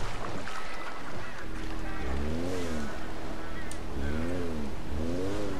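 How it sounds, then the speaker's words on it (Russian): A scooter engine in GTA 5 hums steadily and close, with its pitch rising and falling in repeated revving swells over several seconds. "Я сажусь на какой-нибудь скутер."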